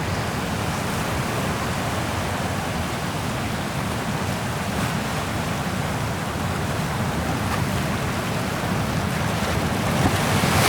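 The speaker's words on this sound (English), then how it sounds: "it's the waves going over this front rock" Ocean waves wash steadily over a rock at the shoreline, a loud continuous roar of surf and spray with some wind buffeting the microphone, no voices present.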